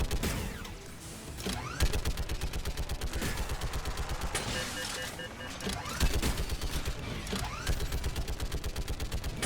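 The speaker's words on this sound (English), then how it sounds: "I love shooting these guns." Rapid gunfire from weapons in the Mass Effect 3 game on PC, dense continuous bursts of shots with mechanical clatter, loud and sustained throughout with brief swells.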